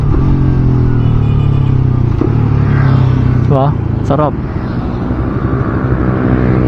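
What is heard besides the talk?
motorcycle exhaust during downshift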